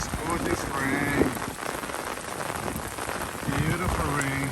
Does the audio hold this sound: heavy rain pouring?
yes